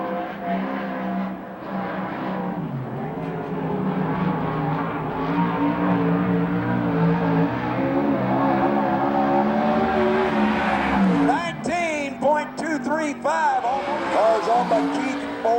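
360 sprint cars roar around the track on the first lap, their engines a loud, continuous, rising and falling drone under a track announcer's commentary, with sharper whining passes near the end.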